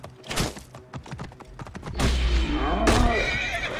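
In the game Assassin's Creed Origins, a horse's hooves thud in quick strikes, then a loud whinny rises over a rumbling, clattering fight, with a voice briefly audible in the mix.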